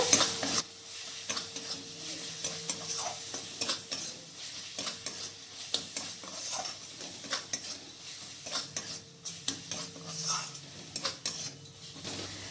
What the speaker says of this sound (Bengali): এরপর আবার ভালো করে মিক্স করে নেব।